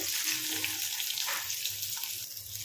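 Chopped onions fry in hot oil with cumin and mustard seeds, a steady close sizzle that hisses without a break and with no voices.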